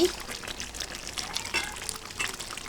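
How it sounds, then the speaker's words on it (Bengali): Hot chicken curry being poured, a soft, steady liquid trickle with light splashy texture that stays fairly quiet throughout. "দিলাম আমার মাংসের ঝোল গরম গরম"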